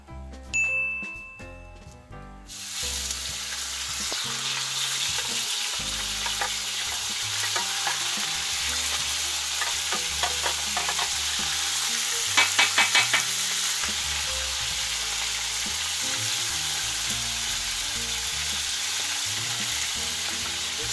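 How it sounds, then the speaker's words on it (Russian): Meat sizzles loudly in hot oil in a kazan over a campfire, a dense, steady frying hiss for the whole stretch, with a brief metallic clinking partway through. "теперь берем мяско и отправляем в казан"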